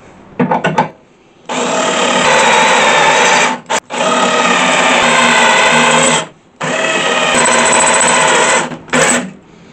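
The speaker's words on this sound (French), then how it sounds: "on va changer de mèche. Donc ici, on va le percer." A power drill with a 6 mm bit bores a hole in the front panel of a Renault Clio 2 under repair, running in three long sustained whining bursts after a brief start, loud and close.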